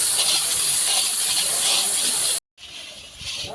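Spice paste with garlic and ground dried chilli sizzles in a pan, a loud continuous hiss that cuts out briefly and then resumes more softly.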